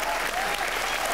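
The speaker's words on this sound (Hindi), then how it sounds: "एक बार जोरदार तालियां हो जाए।" A studio audience at a comedy show claps loudly in a brief, dense burst that fills the whole moment.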